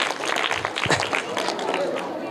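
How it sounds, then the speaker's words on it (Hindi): Applause for a child quiz winner, a crowd clapping loudly and continuously for a couple of seconds, the claps dense and close, with voices mixed in among them. "इनके लिए जोरदार ताली हो जाए।"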